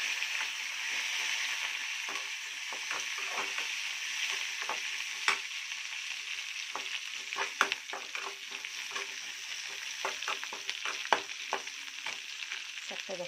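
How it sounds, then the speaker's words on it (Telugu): Dry chillies, green chillies and smashed garlic fry in hot oil, a soft steady sizzle broken by scattered pops and crackles, with occasional stirring taps against the pan, close and moderately quiet. "చక్కగా ఫ్రై అవుతున్నాయి."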